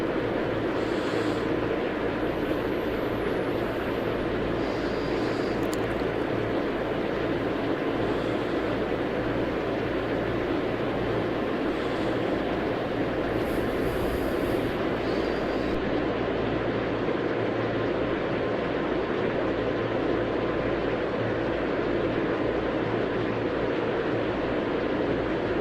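Airliners taxi at Los Angeles International in Tower!3D Pro, a continuous loud jet engine drone and rumble with a faint whine above it, steady throughout.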